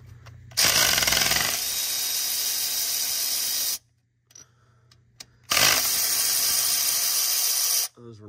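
A power tool removes 10 mm bolts from the high-pressure oil pump on an early 6.0 diesel engine, running in two loud, sustained bursts of several seconds each with a short quiet gap between them.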